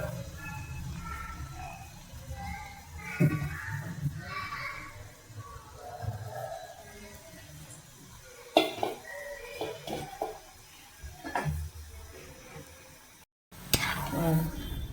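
Rava kunukku fritters and green chillies fry in hot oil, giving a steady sizzle with occasional scrapes and stirs of a utensil in the pan, while a voice talks over it.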